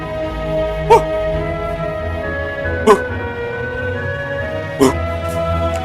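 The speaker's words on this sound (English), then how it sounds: "Just then, Lula began to bark excitedly." A small cartoon dog in a Play-Doh stop-motion fairy tale gives three short, spaced-out barks over a steady musical background.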